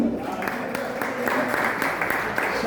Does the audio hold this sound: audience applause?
yes